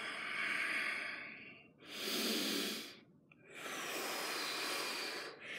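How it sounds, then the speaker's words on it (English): Deep breathing during a workout, slow audible inhales and exhales in three long breaths, close and alone with no talk. "Deep breathing here."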